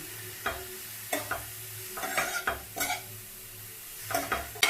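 Grated carrot being stirred and roasted in ghee in a pan, a soft sizzle broken by repeated scraping strokes and light clinks of a spoon against the pan.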